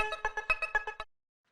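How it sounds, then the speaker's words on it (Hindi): A mobile phone ringtone plays a short, bright electronic melody of about eight quick, evenly spaced notes, then stops abruptly into silence. "ओ तेरा फोन बज रहा है"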